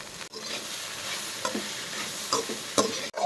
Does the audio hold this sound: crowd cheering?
no